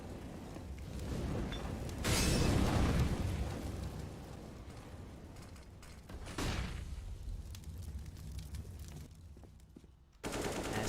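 AK rifle and Mag-7 shotgun fire crackle through a Counter-Strike match on the Overpass map: busy bursts of gunfire and sharp reports spread across the clip at moderate loudness, with a brief loud moment near the end.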